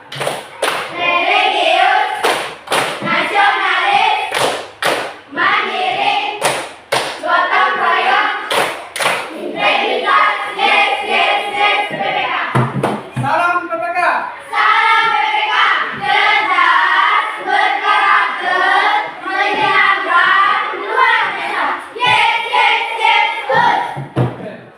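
A school class performs a rhythmic clapping chant, repeated bursts of group claps in a set pattern interleaved with children's voices chanting loudly in unison throughout.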